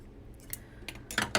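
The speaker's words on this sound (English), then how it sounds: "first we're going to trim up, or trim off the corners," Sharp scissors snip fabric corners of a sewn pot holder: a few quick, crisp close-up cuts, the last two louder and in fast succession, with no talk.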